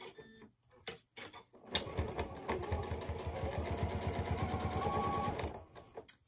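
A sewing machine runs steadily for several seconds, stitching the binding on a pillow with a concealed zipper, its fast rhythmic mechanical clatter close and clear after a few brief start-up taps.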